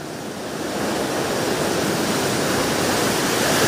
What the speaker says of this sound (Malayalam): കടൽക്ഷോഭം രൂക്ഷമാണ്.